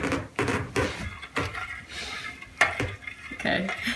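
Spoon stirring a mixture of dissolved Jell-O and cold water, with repeated clinking and scraping against the bowl in an uneven rhythm, close and moderately loud, with no talking.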